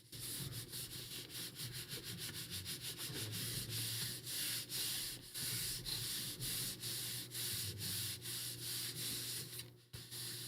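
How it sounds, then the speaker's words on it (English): Continuous rhythmic rubbing of paper to raise texture for crafting, fast even strokes that carry on for about ten seconds, fairly quiet, with a low hum beneath and a short break near the end. "You like rubbing your papers,"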